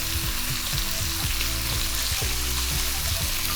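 Pumpkin, carrot and sweet potato cooking in a pot for lentil soup, a steady close hiss and sizzle with bubbling pops and occasional soft stirring scrapes, continuous with no talk.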